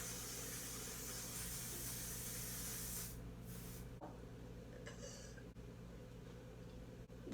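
A long, continuous hiss of hair spray from an aerosol can for about three seconds, then quieter rustling with a few faint clicks.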